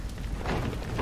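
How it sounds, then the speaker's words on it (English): Fire and explosion in the video game Beyond Two Souls: a loud, dense, low rumbling roar of flames and blast, continuous and close for about a second. "Is that a fire?"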